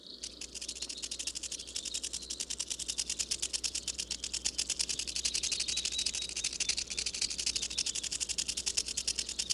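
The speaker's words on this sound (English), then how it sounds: "The frightening sound of a rattlesnake's tail developed to alert passers-by" A rattlesnake shakes its tail in a steady, rapid dry buzz that is close and fairly loud, with a fast pulsing rhythm running the whole time and no voices.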